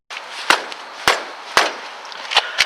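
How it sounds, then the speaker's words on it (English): A foot kicks a car tire, each strike a sharp, loud thud; five spaced impacts land over a few seconds with quiet gaps between, no voices present. "As I kick this tire, you can hear the sound. It has a nice thud sound"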